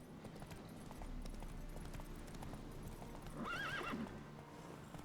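Roach, the horse in the video game The Witcher 3, gallops with steady rhythmic hoofbeats, then gives a short whinny near the end, all at moderate level against a soft game background.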